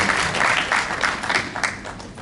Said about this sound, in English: Can we give her a round of applause for